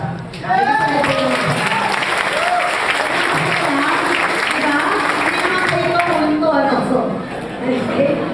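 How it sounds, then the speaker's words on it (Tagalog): Audience clapping at a business presentation, a sustained burst of many hands applauding from a crowd, loud and steady for several seconds, with chatter and talking voices mixed through it before it tapers off. "kung meron po kayong narinig na maganda sa sinabi ko, po pwede mo kayong pumalakpak"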